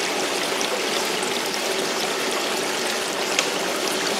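Water rushes steadily through a Geosluice highbanker gold sluice, a dense, even hiss of flowing and splashing water close by, constant throughout without speech.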